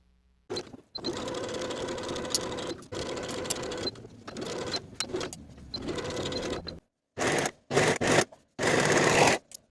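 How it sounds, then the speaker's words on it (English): A sewing machine runs in several bursts of steady stitching along skirt seams with a half-inch seam allowance, stopping and starting with short pauses between runs, close and clear with no talking. "Then I'll sew these seams with a 1/2 inch seam allowance and finish the raw edges."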